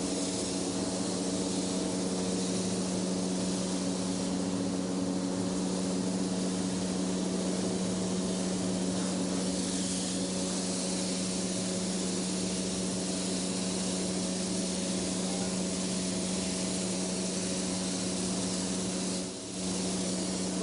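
An airbrush spray gun sprays fine coats of paint for realistic flames, giving a steady, close hiss with a faint hum beneath it that runs almost unbroken throughout, with a brief dip near the end.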